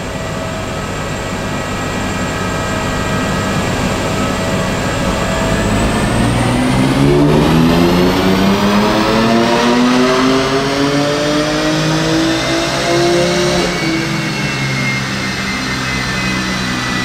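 A tuned BMW M4 Competition engine revs hard and loud, its pitch climbing steadily over many seconds to a peak and then easing slightly, a continuous close roar with no talk over it.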